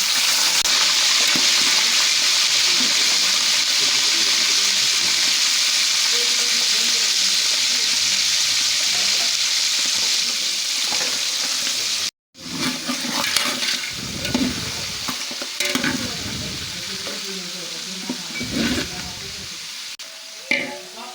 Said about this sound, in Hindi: यहाँ मैंने तकरीबन 3 कप तेल ले लिया है, जिसे अच्छे से गर्म कर लिया। अब मैं इसमें गोश्त शामिल करूँगी।